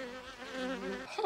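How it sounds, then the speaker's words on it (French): Bees swarming around a beehive, a steady layered buzzing hum held close and fairly loud for the whole moment, with a brief rustle near the end. "le bzzz que t'entends, c'est les abeilles"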